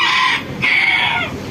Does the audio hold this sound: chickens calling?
yes